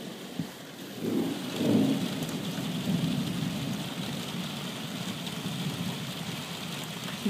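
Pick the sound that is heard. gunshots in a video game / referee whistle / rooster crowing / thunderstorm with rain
thunderstorm with rain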